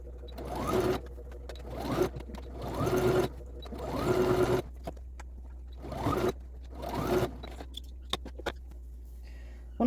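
Domestic sewing machine stitching around the edge of a small fabric food bag, running in a series of steady humming bursts with brief pauses between them, close and fairly quiet, with no voices.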